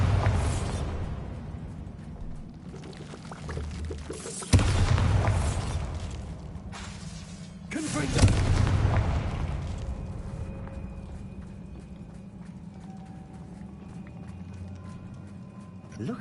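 Bombarda explosion spell cast in the wizarding game Hogwarts Legacy: two sudden booming blasts a few seconds apart with crumbling debris, followed by quieter ambient rumble and faint game sounds; a voice talks during the clip.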